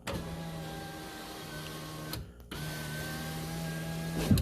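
Electric motor of a rear power window on a third-generation Toyota Tacoma four-door hums steadily as the door glass travels, pausing briefly midway before running again, close and alone.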